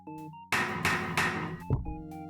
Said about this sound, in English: Use the hammer with the padlock.